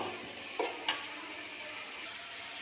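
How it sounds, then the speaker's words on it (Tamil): Onions sautéing in a pan for a crab fry, cooked until lightly golden, give a soft steady sizzle with a couple of brief stirring clinks; no one speaks. "கொஞ்சம் லைட்டாக கோல்டன் கலர் வர வரைக்கும் நல்லா வதங்கட்டும்"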